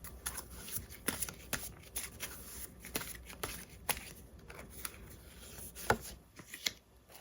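A deck of tarot cards is shuffled and drawn, making soft close-up rustles, slaps and taps in an irregular rhythm, quiet and with no talking.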